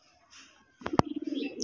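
A male Raj Golla pigeon gives a short burst of throaty cooing, close and fairly quiet, after a few faint sounds.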